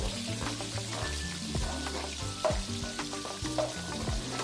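Onions sauté in a pan as a base for jollof rice, giving a close, steady frying crackle broken by rhythmic scraping and stirring strokes of a utensil against the pan.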